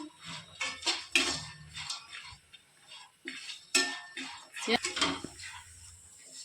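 Roasted almonds tipped into a dish for a date and dry-fruit roll, with several bright utensil clinks and scrapes of dishware in a short irregular run, close and fairly quiet.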